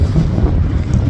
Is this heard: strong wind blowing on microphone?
yes